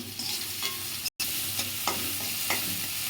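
Poppy seeds and green chilies stir-frying in a pan, a continuous close sizzle with a spatula scraping now and then, steady throughout apart from one brief dropout near the middle, no voices.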